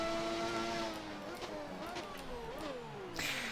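A Formula 1 car engine in the video game F1 2019 at Monaco whines at high revs, pitch climbing and dropping through gear shifts, with a burst of noise at the end.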